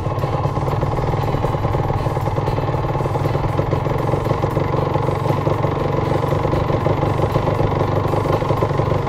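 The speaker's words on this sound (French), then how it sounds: "Vous voyez, là vous êtes sur le ralenti de la moto." A motorcycle engine idles in first gear with no throttle applied, a loud close rapid rumbling pulse that stays steady and even throughout, with no voices.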